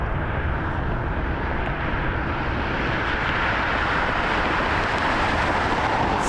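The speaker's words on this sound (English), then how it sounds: "There's that Delta taxiing." Delta airliner taxiing at Las Vegas airport, a steady broad jet-engine roar with a hissing upper edge, continuous and fairly loud throughout with no talking.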